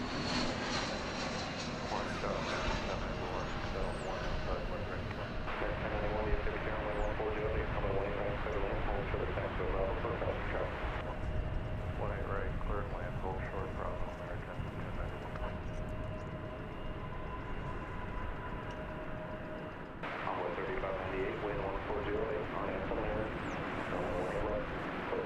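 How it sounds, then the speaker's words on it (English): An American Airlines Airbus A321 arrives at DFW Airport, a steady engine rumble and whine rolling on at moderate distance, with a commentator speaking over it in stretches. "American Flight 2994 coming in from Fort Lauderdale in Florida on an Airbus A321"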